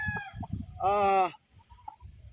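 A sweater gray gamefowl rooster with a street comb gives a short, loud, harmonic call that breaks through around the middle, while someone talks nearby before and after it.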